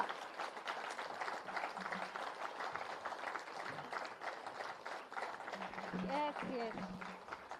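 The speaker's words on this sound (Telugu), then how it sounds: "చప్పట్లు చాలా తక్కువ ఇంకా ఇంకా" A crowd at a live youth event claps in a faint, continuous patter throughout, with a voice briefly rising near the end.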